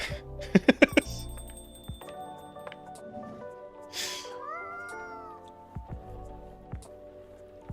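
A cat meows in the video game Coffee Talk 2, a burst of several loud, quick meows near the start followed by softer game sounds and chimes.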